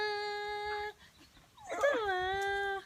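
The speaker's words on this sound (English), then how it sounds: "The dog's getting upset." A dog whimpers and whines in long, high, sustained tones, breaking off briefly and then rising into a wavering, upset whine, close and fairly loud with no talk.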